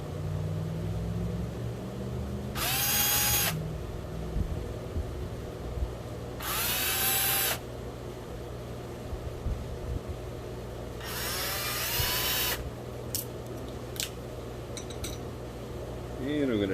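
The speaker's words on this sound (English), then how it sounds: "So I'm going to go ahead and pull those 3 screws out." A power driver unscrews three screws from the shock plate mount of an RC car in three separate whirring bursts, each a few seconds long, close and fairly loud, with someone talking in between.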